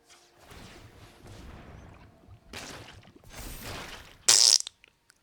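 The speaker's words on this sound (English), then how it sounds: "Fart sounds." Fart sound effects in the card game MTG Arena, several blurting, sputtering bursts in a row, ending in a sharp loud crash-like hit, with no talking.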